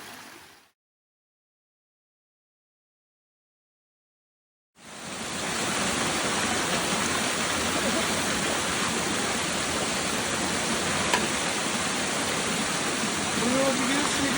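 A gold pan is washed down in a creek: a short splash, then near-silence, then a steady loud rush of water that continues to the end.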